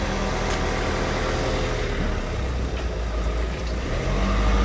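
A Royal Mail delivery van rumbles past nearby, its engine a steady low drone with a faint hiss of brakes, growing slightly louder toward the end.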